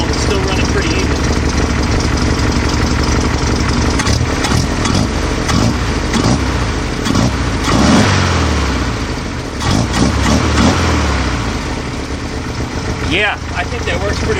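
Cold Type-3 engine fitted with dual carburetors idling loud and close, a rough but even mechanical rumble with slight surges, continuing steadily throughout.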